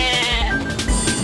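A goat gives a single short, wavering bleat, loud and close, lasting about a second.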